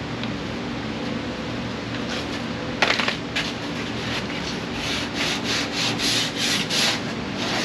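A sanding block rubs back and forth over a car body being prepped for paint in a parking lot, steady scraping, then a rhythmic run of close, regular strokes.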